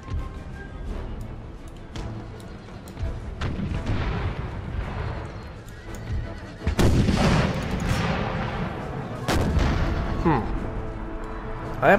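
Eight-pounder cannons fire in the video game Empire: Total War, with heavy booms and rumbling volleys. Two sharp, loud blasts stand out late on, and someone talks over the gunfire.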